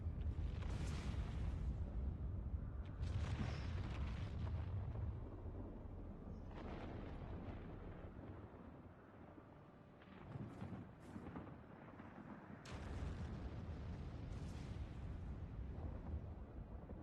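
Rumbling Fire II spell explosions from Final Fantasy XIV: deep, booming blasts that swell and fade in several waves over a continuous low roar, loud and close, with no talk over them.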